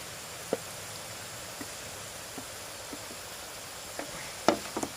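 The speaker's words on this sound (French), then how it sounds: "je mets mes petites pommes de terre. Et elles vont souffler instantanément." Small potato slices dropped into oil at 180 degrees hiss with a steady, faint frying noise as they puff up, broken by a few sharp pops and crackles near the end.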